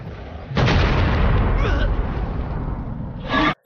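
A sudden loud blast erupts and roars on for about three seconds, followed by a second burst before cutting off abruptly.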